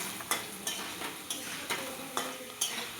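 Potatoes with turmeric stirred in a frying pan for a vegetarian drumstick curry, the spatula scraping in about seven regular strokes over a soft sizzle, close and clear, no voices.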